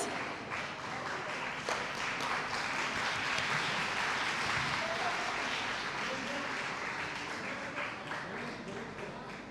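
An audience at a women's conclave in Faridabad applauds honoured guests, an advocate and a police officer, with sustained, moderately loud clapping that runs the whole way through. Voices talk over the applause at times.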